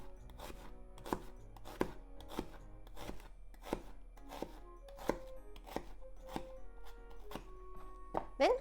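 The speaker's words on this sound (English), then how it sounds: "Cut into half and make some slits like this." A knife cuts an ingredient in half and scores slits in it for Japanese dry curry, tapping a cutting board in a steady series of crisp, close chops with brief scraping between strokes.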